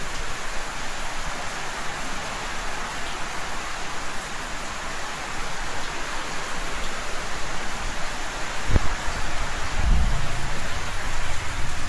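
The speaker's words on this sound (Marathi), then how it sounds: "इतका पाऊस आला आहे आमच्याकडं" Steady, dense rain drums on a tin roof, loud and continuous, swelling slightly toward the end with a couple of low thumps.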